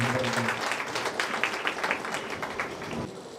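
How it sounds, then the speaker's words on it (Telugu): A congregation at a church opening in Chinagadavilli claps for a visiting bishop, a moderate burst of applause with a voice heard briefly at the start before it tails off. "చప్పట్లు"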